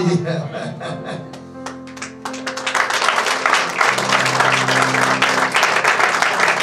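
An audience at a Christian worship gathering bursts into loud applause and cheering, following a sustained musical tone and a few scattered claps; a voice also speaks over the crowd.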